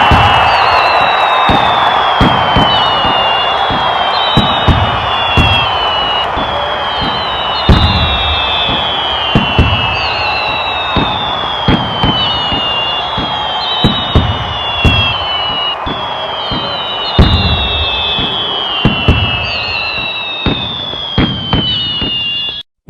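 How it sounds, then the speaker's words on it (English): Cartoon Fourth of July fireworks go off in a long run of whistling rockets and sharp bangs, loud and close, repeating every second or two, with crowd cheering mixed in. "The fireworks is about to begin now."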